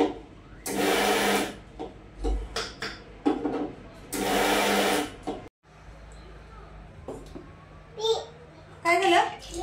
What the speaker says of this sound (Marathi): तीळ पण चांगले थंडी झाले, आता हे वाटून घेते।